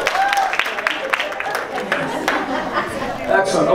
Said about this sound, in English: Very nice, round of applause.